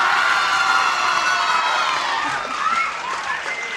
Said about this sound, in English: That's a local high school cheering section.